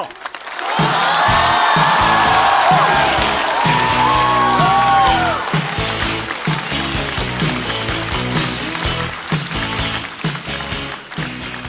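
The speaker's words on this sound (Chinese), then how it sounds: "让我们掌声欢迎重新归来的陈小静" A large studio audience at a stand-up comedy show applauds loudly to welcome comedian Chen Xiaojing back on stage, with whoops and cheers mixed into the clapping. Bright, rhythmic music plays alongside.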